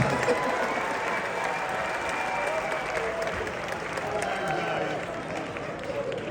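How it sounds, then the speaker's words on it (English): A large live audience at a variety show applauds and cheers steadily and loudly, a dense wash of clapping with scattered shouts holding at an even level throughout. "Give another massive round of applause."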